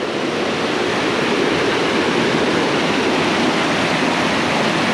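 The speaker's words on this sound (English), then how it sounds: "Yeah, that water's rushing." Rushing water of a rain-swollen creek near Cascade Falls in Mill Valley forest, a dense, steady roar that is loud and close, unbroken for the whole stretch with no voices.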